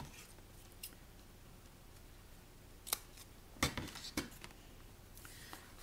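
Scissors snip through paper for an envelope journal, giving a few quiet, crisp cuts close by in an otherwise still room.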